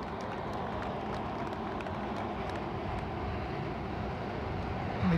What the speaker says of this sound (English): let me pause while the train passes